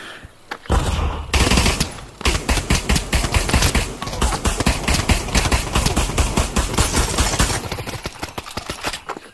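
Gunfire in a VR shooter game rattles close and loud, fast rhythmic shots in sustained volleys with brief gaps between bursts.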